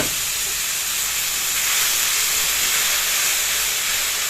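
Black cumin and dried red chilies hiss in hot oil, a dense, even sizzle that holds steady and loud from start to finish, close up with no voices.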